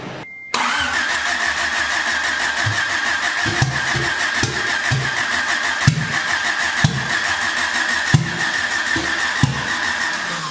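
A Honda Civic wagon engine, newly swapped with a turbo setup, cranks steadily and repeatedly without catching, a loud droning starter whir with rhythmic compression pulses that continues close to the listener for the whole stretch.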